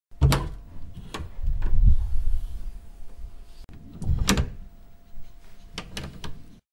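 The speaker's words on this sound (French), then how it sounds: "il ouvrit la porte sans hésiter" Wooden door opened as a storytelling sound effect: a few sharp knocks and clunks of the latch and frame, then a creaking swing and further thuds, close and fairly loud with quiet gaps between.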